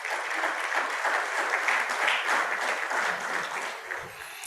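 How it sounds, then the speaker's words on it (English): A crowd at the NAICE 2021 opening ceremony gives a sustained round of applause, steady and dense for several seconds before thinning out and fading near the end. "Can we please give him another round of applause?"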